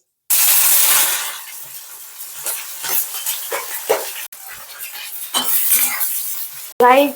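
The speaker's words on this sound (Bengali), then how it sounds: "এরপর আমি পেঁয়াজগুলো ভেজে নেবো তেলে" Onions frying in hot oil with whole garam masala, a little sugar and cumin for a mutton curry, a loud steady sizzle with scraping and clinking of a spoon against the pan, close by and continuous.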